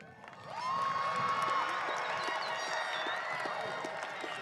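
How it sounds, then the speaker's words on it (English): Graduation audience at a Hamtramck Public Schools high school ceremony applauding and cheering the graduates, a broad steady wash of clapping and crowd noise swelling in after a quiet start and holding at moderate distance. "Audience, please join me in a round of applause to acknowledge our graduates"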